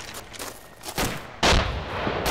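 Heavy gunfire booms in Arma 2 from a gun on a hill, with several sharp reports of rising loudness, the last one loudest and ringing out, and no talking.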